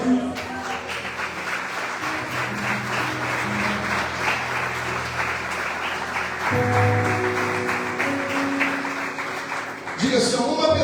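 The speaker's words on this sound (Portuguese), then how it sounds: "aplaudir Jesus." A congregation at a live Holy Communion worship service bursts into sustained applause, a dense, steady wash of clapping over soft background music, swelling briefly near the end as a voice speaks.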